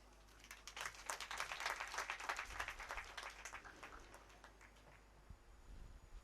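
An audience applauds at a graduation ceremony, dense clapping that swells and then fades out, with a faint voice near the end.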